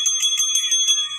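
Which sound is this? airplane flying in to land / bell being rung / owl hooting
bell being rung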